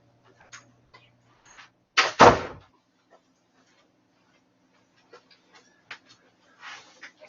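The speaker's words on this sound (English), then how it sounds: "I'm stepping up to close the door to my office." An office door swings shut with a single loud thud and rattle, standing alone amid quiet room tone and a few faint clicks.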